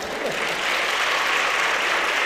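Audience at a televised 2015 Spanish political debate breaking into sustained applause, a thick, loud wash of clapping that swells slightly and holds steady throughout.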